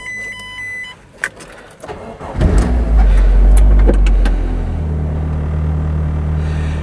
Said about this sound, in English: I'm going to take it for a test drive, if I can get it started.